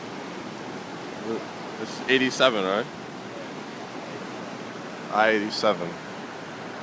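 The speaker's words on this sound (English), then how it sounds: "This is the Sawmill River. That's the river right there." The flood-swollen Sawmill River after Hurricane Irene rushes as a steady broadband roar, with people talking briefly over it.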